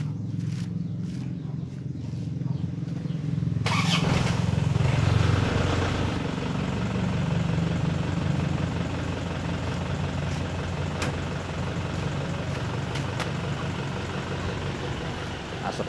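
An Isuzu Panther diesel engine is cranked, catches after a few seconds and settles into a steady, loud rumbling idle that carries on to the end, recorded close by.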